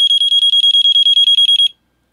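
A rechargeable dog bark collar gives a rapid run of about fifteen sharp, high electronic beeps in a steady pulse, loud and close, then falls silent.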